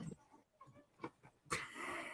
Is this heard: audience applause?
no